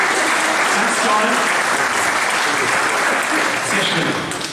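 An audience at a barrel organ concert in Wittmund's St. Nicolai church claps steadily and loudly for several seconds, a dense, even applause that tapers slightly at the end.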